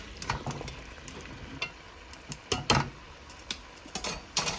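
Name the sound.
squash stir-frying in a pan with duck meat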